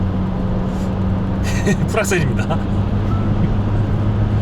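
A SsangYong Rexton Sports Khan pickup at full throttle uphill at highway speed, heard from inside the cabin as a steady, loud engine and road drone while someone talks over it.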